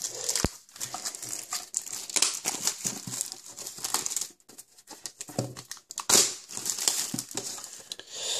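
Crinkling and crushing of cardboard and plastic packaging from a Pokémon card box being opened up close, with irregular rustles, scrapes and taps and no speech.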